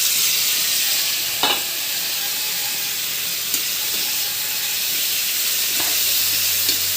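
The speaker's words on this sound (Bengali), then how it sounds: "এবার দিয়ে দেব এই যে টমেটো কুচি করে রেখেছি।" Chopped tomatoes frying in a pan with ginger, green chilli and bay leaves, a steady close sizzle with a few scraping stirs cutting through.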